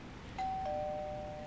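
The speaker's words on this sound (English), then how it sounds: "Ding dong." Two-tone ding-dong doorbell chime from the city-building game SimCity 4, a clean electronic tone struck twice in quick succession and left ringing steadily over quiet background noise.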